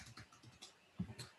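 Quiet, close clicks of typing on a computer keyboard, a handful of light irregular keystrokes with no talking.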